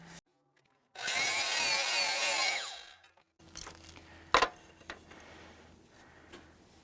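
A power saw cuts through the top of a wooden Christmas tree shape in one loud, close whining cut lasting a couple of seconds. Quieter knocks and shuffling of the piece follow.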